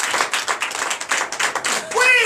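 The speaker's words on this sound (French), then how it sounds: "Donnez l'acclamation à notre Jésus." A church congregation claps in worship, loud and close, with bursts of hands in an uneven rhythm and a voice rising near the end.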